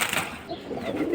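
Pigeons coo softly at a pigeon seller's stall where local Bengali, flyer and fancy breeds are kept, a short, close run of low rolling coos with faint background noise.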